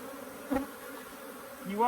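Honeybee foragers buzz around the front of a hive colony, a steady low hum with a couple of louder passes as individual bees fly close by.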